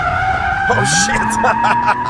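BMW E90 drift car fitted with an angle kit sliding with the e-brake pulled, engine note rising as tires squeal and skid loudly up close, with rising and falling pitch through the slide.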